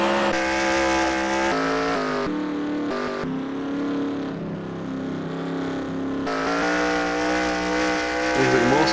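Stock cars racing around the Charlotte oval in NASCAR Racing 2003, heard from a cockpit view: a steady, loud engine drone with shifting pitch through the clip, filling the whole stretch without pause.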